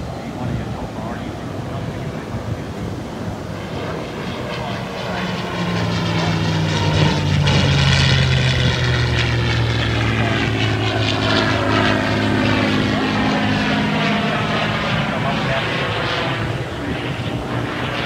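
A Supermarine Spitfire and P-51D Mustang propeller aircraft fly at an airshow, their engine drone swelling loud and sweeping in pitch as one passes, with a voice talking over it.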